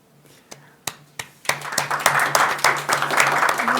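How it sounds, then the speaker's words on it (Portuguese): Applause at a pre-conference tourism event in Osasco begins with a few isolated claps, then swells into fuller clapping from the audience, with soft murmuring voices underneath. "Agradeço o aplauso."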